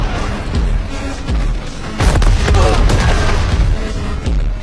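Loud, chaotic blasts and crashing booms from an explosion at a military base, dense rumbling debris, a heavy burst hitting around the midpoint; no clear speech.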